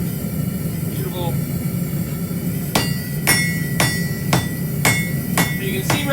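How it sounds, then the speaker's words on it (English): Hot metal is struck by a hammer, drawing down its edge, in a series of sharp ringing blows, roughly evenly spaced, over a low background rumble. "I'm just hammering down on the edge, drawing it down."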